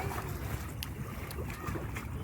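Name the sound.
boat approaching on a backwater lake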